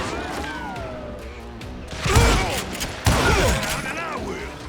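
Gunfire in the Western shooter Call of Juarez: Gunslinger: sharp, loud shots and impacts bursting out in a couple of clusters, with voices talking underneath.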